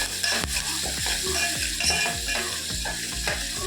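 A tomato rasam mixture is stirred in a pan, with a utensil scraping in a steady, repeated rhythm over a continuous close sizzle.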